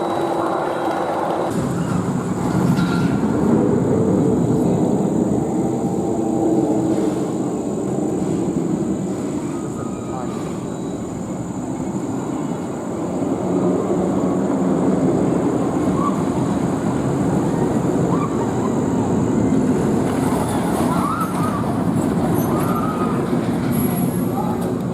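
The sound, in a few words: Phantom's Revenge roller coaster trains running at Kennywood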